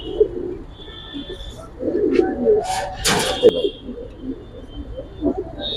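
Soft, low coos of Giribaz and racer pigeons murmur close by amid rustling and a brief sharp clatter, with a faint tone in the background.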